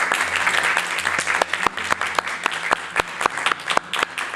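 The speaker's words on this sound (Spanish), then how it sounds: "la recibimos con un fuerte aplauso" An audience at a literary essay contest ceremony applauds for about four seconds; the hand claps are close and distinct, some sharp individual claps standing out, over a low steady hum in the room.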